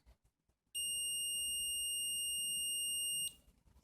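A multimeter set to continuity gives one steady, loud electronic beep lasting about two and a half seconds while probing the negative conductor of a laptop charger lead, with quiet handling noise before and after.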